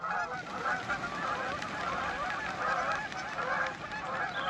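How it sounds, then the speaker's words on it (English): Geese honking in a flock during a wildlife hike, a steady run of overlapping calls that continues throughout at fairly close range, with no talking. "Geese."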